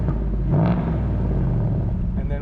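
Ford Mustang Mach 1 exhaust in Sport Plus mode, a steady close, deep rumble that swells briefly near the start and then holds at a rough, even idle-like drone.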